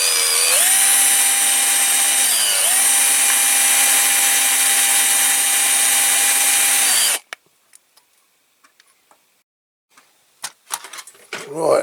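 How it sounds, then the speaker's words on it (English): A power drill runs loud and close for several seconds while drilling out rivets on a Dinky Toys 968 BBC TV Roving Eye vehicle model, with its whine dipping briefly under load, then stopping and giving way to small clicks and handling noises. "we'll get the drill out and drill these rivets out"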